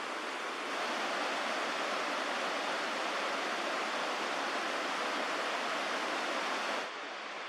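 A forest river near Nymph Falls on Vancouver Island rushes in a steady, broad roar of flowing water, constant and fairly close, with no voices, cutting off sharply near the end.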